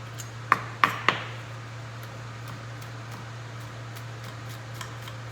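A knife cutting sage leaves on a cutting board for a Thanksgiving meal: three crisp, close knife taps in quick succession, then a few faint light ticks over a quiet background hum.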